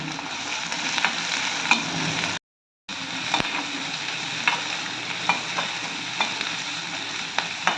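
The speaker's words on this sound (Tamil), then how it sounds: "சின்ன வெங்காயம் கட் பண்ணதை போட்டுக்கலாம் நல்லா வதக்கிக்கலாம் கருவேப்பிலை கொஞ்சம் போட்டுக்கலாம்" Shallots and curry leaves sauté for mutton chukka, frying with a steady close sizzle and scattered stirring scrapes, broken by one short gap of silence.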